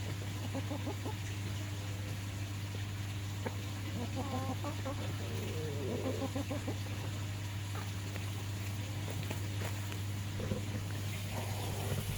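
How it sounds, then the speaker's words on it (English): Hens cluck and murmur at a distance over a steady mechanical hum, scattered soft calls with no close crowing. "Oh, that's my rooster."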